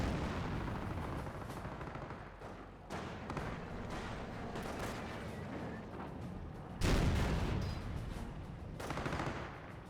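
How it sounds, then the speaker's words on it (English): Company of Heroes battle din with a frag grenade blast and rattling gunfire, dense continuous shooting and thumps, with sharp loud bursts cutting through mid-clip and near the end. "Frag grenade thrown, the Panzer player does dodge it."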